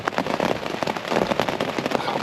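Heavy rain drums on a tent during wild camping, a dense close patter of irregular drops that crackles continuously at strong volume.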